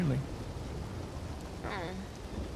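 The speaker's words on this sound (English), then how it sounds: "It is raining, indeed." Steady hiss of rain and a low rumble of thunder in the video game Red Dead Redemption 2, played on a roleplay server; a constant even downpour with a brief chirping sound partway through.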